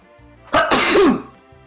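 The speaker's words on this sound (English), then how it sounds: "Big sneeze." A single loud human sneeze, sharp and sudden, close to the microphone after a brief quiet lead-in.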